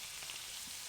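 Garlic sizzles in hot avocado oil and pork belly drippings in a pan for fried rice, a faint, steady crackling hiss with no voices.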